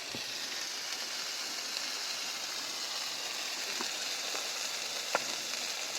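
Chicken kosha with ground spice paste and turmeric sizzles steadily as it is stir-fried in a pan, giving an even, close hiss with a few sharp pops and light stirring.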